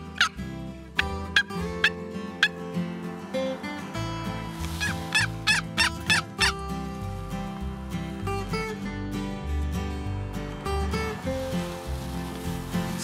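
A turkey box call scrapes out a series of sharp yelps and clucks imitating a wild turkey during a hunt in Quebec, in rhythmic bursts over a low background.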